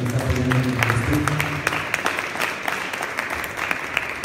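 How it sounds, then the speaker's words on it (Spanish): Applause from an audience at a community radio emergency communications guide presentation rolls on for several seconds, with dense, sharp claps that thin slightly toward the end and a voice faintly underneath at the start. "darle un aplauso muy fuerte a Yera del colectivo Boca de Polen"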